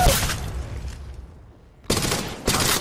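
Bursts of gunfire from the mobile battle-royale shooter Apex Legends Mobile, one loud volley at the start, then a lull and two more rapid bursts close up near the end, with no talk.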